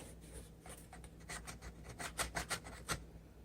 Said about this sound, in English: I'm going to just cut some of the brownie